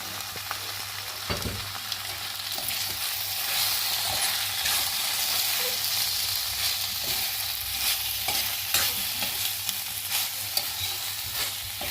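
Garlic and curry leaves stir-fry with chicken for garlic pepper chicken, giving a continuous bright sizzle of hot oil with intermittent spatula scrapes and tosses against the pan, close and steady throughout.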